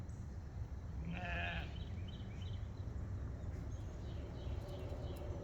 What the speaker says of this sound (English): But lots of lambs.